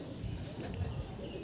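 Pigeons cooing at a pigeon show with low, soft, continuous coos close by, set against busy background noise and no talk.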